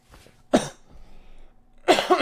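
A man coughs again close by: one sharp cough, a short pause, then a heavier burst of two or three coughs, with no speech around them.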